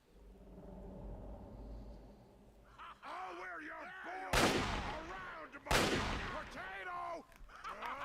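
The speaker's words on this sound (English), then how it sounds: "He threw a grenade at me." Grenade explosions in Fallout 3, two loud sudden blasts about a second and a half apart that fade into rumble, with someone talking over the gameplay.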